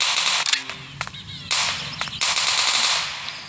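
Gunfire in the Dude Theft Wars video game, rapid bursts of sharp game-audio shots with short gaps between volleys, loud and close with no talking.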